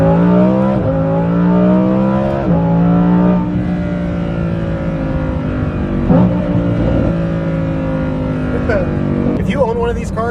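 A Lamborghini Huracan Performante with a Kline exhaust in Corsa race mode roars loudly and close, its revs climbing through repeated gear pulls with sharp shift breaks and crackles, while someone talks over it.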